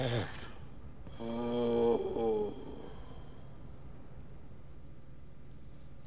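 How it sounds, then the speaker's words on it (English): In the video game GTA: Vice City Stories, a character lets out a loud, nasal snore lasting about a second and a half, followed by faint buzzing background ambience. "He's snoring the shit out of it."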